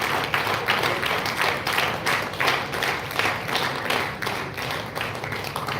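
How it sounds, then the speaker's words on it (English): A crowd at a school of management event applauds the poster presentation winners, dense clapping that stays steady and fairly close throughout, with no talk over it. "huge round of applause"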